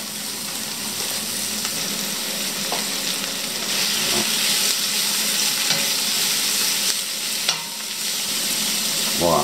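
Steady, crackling sizzle of onions frying in oil in a pan for onion soup, close and continuous, with occasional clinks of a utensil stirring.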